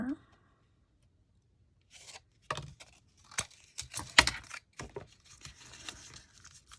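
Scissors cutting paper for making miniatures, several short crisp snips and rustles spread through the clip, close and fairly quiet.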